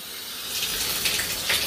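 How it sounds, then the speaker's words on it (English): Water runs from a bathtub tap, starting quietly and swelling into a steady, close gushing hiss as the flow builds, with no talk over it. "No, you have to start the water."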